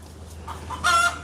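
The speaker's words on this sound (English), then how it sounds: "The chicken's like laying an egg next door." A chicken next door gives a brief cackle from a short distance, a few soft notes rising into one louder, strained call.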